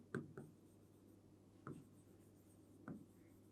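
A math solution for a Class 6 mensuration exercise is written by hand, with a few short scratchy pen or chalk strokes in separate bursts over a quiet background and no voices.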